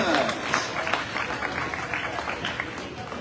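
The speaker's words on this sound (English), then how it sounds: "Let's give a big round of applause to all 4 of our final wool handlers." A crowd at the 2025 USA National Shearing Competition breaks into applause for the final wool handlers, a dense wash of clapping with voices mixed in throughout.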